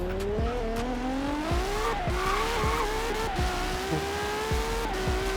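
Loud LaFerrari engine revving and whining through gear shifts in Forza Horizon, pitch rising and dropping repeatedly, with a constant roar of the fast car close up.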